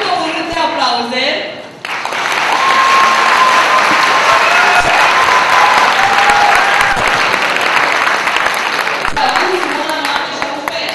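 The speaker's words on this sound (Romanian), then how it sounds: "încă un rând de aplauze." After a moment of speech, a fresh round of audience applause breaks out at a magazine launch, loud and dense with some cheering and crowd voices, continuing steadily before easing slightly as talking returns.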